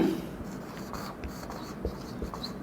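Chalk or marker writing on a board during a second-year physics lecture on energy stored in a capacitor, with soft, scratchy strokes that continue steadily at low level and no talking.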